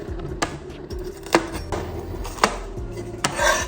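A knife strikes a cutting board as garlic is sliced for Chinese chicken soup, giving a handful of firm, separate chops at uneven intervals, close and clear in a kitchen.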